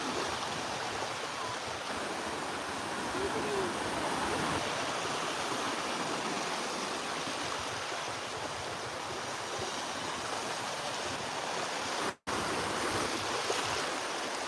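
Waves splash and wash where two tides meet at Walberswick beach on the Suffolk coast, a steady, fairly close broadband rush of surf with no voices.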